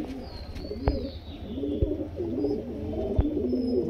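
A pair of high flyer pigeons coo in low, repeated rolling phrases close by, with a few sharp clicks in between and no talk.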